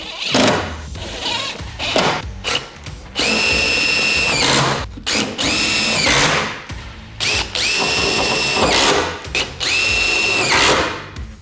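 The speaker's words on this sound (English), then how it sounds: "we just have some self-threading screws that go into 2 holes in the front here" A power drill drives stainless steel self-threading screws into the aluminum of a Vantech H1 ladder rack on a Ford Transit Connect, with several loud, sustained whirring bursts separated by short pauses and clicks, no talking.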